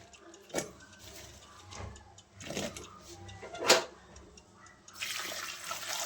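Shelled peas drop into a pot of hot water to soak in a home kitchen. Faint splashes and small clicks come at scattered moments, then a soft wash of pouring water near the end.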